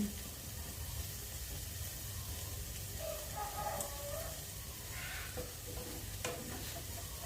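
Pieces frying in a pan with makrut lime leaves and a loose, lightly egged mixture, turned one at a time: a steady soft sizzle with faint scraping and a few light clinks from the utensil.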